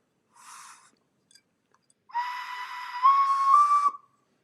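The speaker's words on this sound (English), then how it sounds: "And it is a whistle." A vintage crocodile-shaped whistle blown twice: a brief breathy puff first, then a longer, louder shrill tone that rises in pitch near the end, with no talking.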